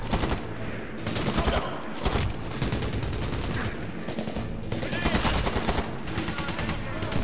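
Rapid, dense gunfire from the shooter video game Medal of Honor Warfighter crackles continuously in close, loud bursts, blended with game noise and occasional voices underneath.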